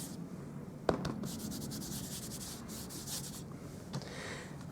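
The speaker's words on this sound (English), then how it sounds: "going to put my embossing buddy over" An embossing buddy rubbed over a stamped card front for a wild rose watercolour card, giving soft, steady papery swishes in quick repeated strokes, fairly close and quiet, with one sharper tap near the start.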